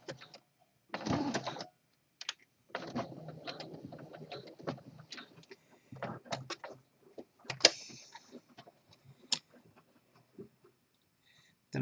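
A home sewing machine running a lock stitch over an elastic waistband on boxer briefs, quiet short bursts of rapid mechanical whirring separated by pauses, with faint clicks and handling noises.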